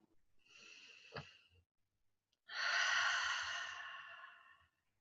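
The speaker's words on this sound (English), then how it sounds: "So let's take a nice big deep breath." A deep breath: a quiet airy inhale, a faint click, then a fuller, louder exhale that tapers off, close and soft with near silence around it.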